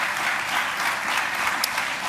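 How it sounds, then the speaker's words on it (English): An elementary school orientation audience claps for the families, a brief, moderately loud burst of even applause lasting about two seconds. "round of applause for all of our families"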